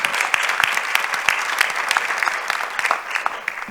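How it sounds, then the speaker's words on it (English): An audience at a foundation event claps steadily in a dense, close round of applause, with individual sharp claps standing out throughout. "Let's give Jane and Shannon a round of applause."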